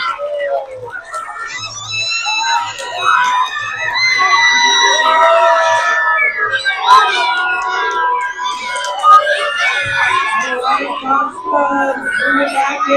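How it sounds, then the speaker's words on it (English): A classroom of students lets out a loud, sustained cheer, many young voices shrieking and whooping together for several seconds, close and energetic. "We hear a loud cheer for all of our students."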